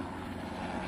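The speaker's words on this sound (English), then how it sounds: "I'm sorry about the helicopter." Navy helicopter flying overhead above a summer garden with peppers, hibiscus and fig trees, a steady continuous rotor drone that holds at a moderate level throughout without any talk.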